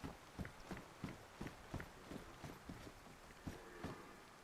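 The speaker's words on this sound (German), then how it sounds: "Oh, das ist ein Elch." Heavy hoofed footfalls of a moose in the survival game DayZ thud in a regular walking rhythm, about two steps per second, quiet and somewhat distant over a faint airy background.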